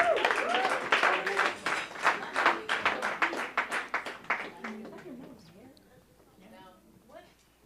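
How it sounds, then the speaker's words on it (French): A church congregation at a praise and testimony night claps in a quick, loud, rhythmic burst that fades after about five seconds, followed by scattered softer voices and singing. "On applaudit le Seigneur pour vous,"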